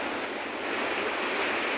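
River water rushing steadily in Mandali, Mobo, Masbate, a continuous broadband wash with no talk, loud and close throughout.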